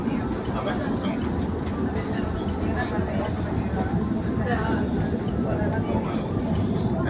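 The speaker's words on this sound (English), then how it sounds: "This is the inside of the tram." Constant rumbling and rattling inside a moving tram in Budapest, with faint voices murmuring in the background throughout.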